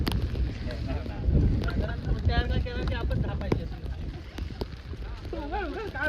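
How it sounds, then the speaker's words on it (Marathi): Strong gusty wind buffets the microphone on a hilltop path up to a temple, a loud rumbling roar that rises and falls while people talk over it. "हवा बघा किती"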